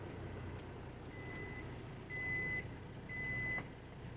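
Three evenly spaced electronic beeps from a truck's warning alarm, each about half a second long, clear over a steady low engine drone inside the cab.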